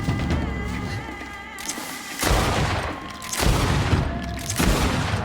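Rapid gunfire in a video game arena fight, dense bursts of shots and booms in several loud waves with a steady background hum.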